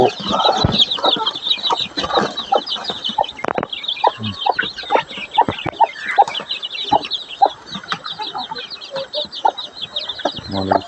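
Newly hatched native chicks in a brooding pen cheep constantly in a dense high chorus, with loud clucks from nearby hens breaking through, close and busy throughout.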